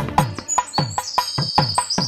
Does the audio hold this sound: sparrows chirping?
yes